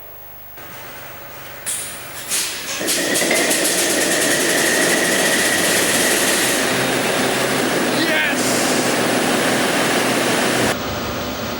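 A huge 1,500-horsepower diesel engine on a crane cranks with a hiss of air, catches, and settles into a loud, continuous roar; a voice briefly shouts over it.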